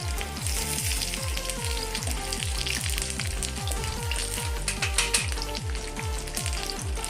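Cumin, curry leaves and ginger-garlic paste crackle in hot ghee for a restaurant-style dal tadka, giving a loud, steady close-up sizzle with a rapid, regular low thumping running underneath throughout.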